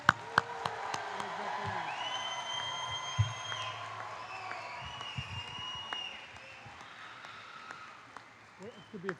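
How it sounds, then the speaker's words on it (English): Applause from the audience for graduates at a college's 50th annual commencement ceremony, a steady wash of clapping lasting about nine seconds, with a drawn-out synthesized or musical tone and some voices over it. "Let's give them an applause, please."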